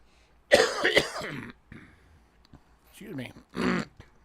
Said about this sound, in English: I don't mean to keep coughing in everybody's ear.